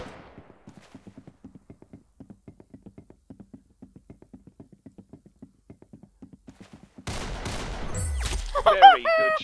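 Gunfire in the Roblox shooter Arsenal: a long run of soft, evenly spaced distant shots, then a sudden loud close burst of rapid firing mixed with a brief voice.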